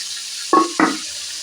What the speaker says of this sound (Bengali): জলটাকে পুরো ঝারিয়ে নেব